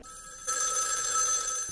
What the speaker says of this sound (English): And the phone rings again.